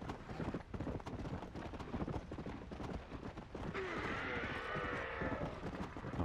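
Horse galloping in the video game Red Dead Redemption: Undead Nightmare, a fast, steady clip-clop of hooves running continuously, close and prominent, joined partway through by a brighter hissing game effect layered over the hoofbeats.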